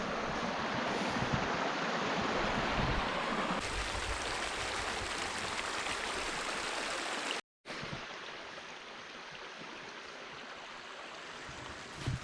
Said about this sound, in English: Just look at this little brook here that runs right down alongside the trail.